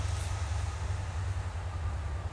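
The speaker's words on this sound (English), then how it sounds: "That's a freight train, look at that." A freight train passes near Manor Park station in autumn, a deep continuous low rumble with steady broadband noise, fairly loud and unbroken, with no talking.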